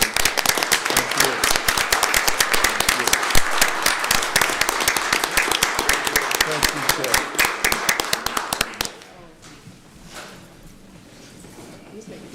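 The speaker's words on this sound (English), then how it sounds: "Can we have a round of applause for Mr." Applause at a city council meeting: dense, loud clapping from the chamber audience that runs steadily for about nine seconds, then cuts off abruptly, leaving low room noise and faint murmuring.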